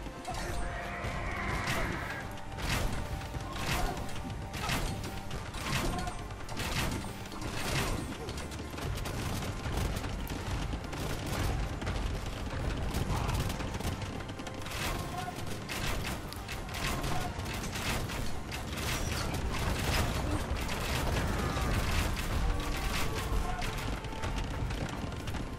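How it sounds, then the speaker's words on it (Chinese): Long-range bombard cannons in Age of Empires II batter and demolish buildings in a dense, continuous din of booming shots, crashes and clattering mechanisms, with game effects and bursts of talk mixed throughout. "这边超远射程的火炮直接开拆"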